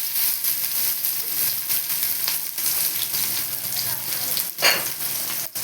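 Onions sautéing in a pan for broad bean poriyal: a close, continuous crackling sizzle with occasional stirring scrapes and one sharper burst near the end.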